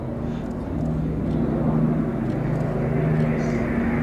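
A Eurofighter Typhoon jet performs at the Midlands Air Festival at Ragley Hall, a continuous distant engine roar that grows a little louder and holds steady throughout.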